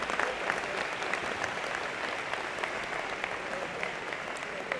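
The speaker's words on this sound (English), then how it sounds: "give it a big round of applause" A big round of applause from a graduation audience at a 2023 College of Engineering & Computer Science convocation, heard as a soft, distant, even roar of many hands clapping without a break.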